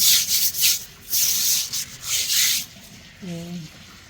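A house's stairs and walls being scrubbed by hand in repeated rough rubbing strokes, loud and close, in bursts with short pauses, and a brief voice-like tone near the end.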